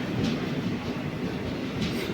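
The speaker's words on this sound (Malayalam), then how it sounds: "നമ്മുടെ ട്രെയിൻ എത്തി." A train arriving at a station platform on the Guruvayur line, with a steady low rumble and clatter of rolling stock and occasional faint higher hiss or squeal.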